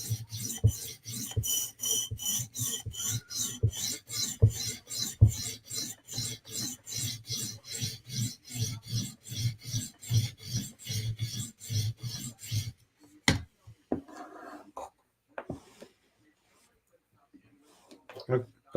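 Knife blade with a DLC coating being sharpened, a fast rhythmic rasping scrape of steady strokes for about twelve seconds, then a few scattered clicks and brief talk before near silence.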